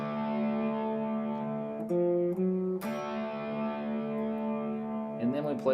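Distorted electric guitar runs through a riff, with sustained chords, several quick changes and fretted note shifts and a brief scrape near the end, played close and alone.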